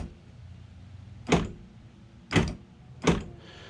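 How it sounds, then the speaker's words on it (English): Power door locks on a 1980s Fox-body Ford Mustang actuate three times, each a sharp mechanical thunk close by, spaced about a second apart in a quiet car interior. "but I'll show you the door locks"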